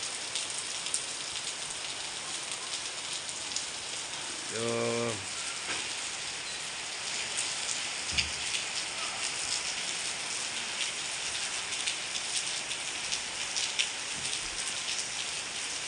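Heavy rain in Vijayawada hisses steadily and evenly throughout, with a brief voice-like sound partway through and a few faint knocks.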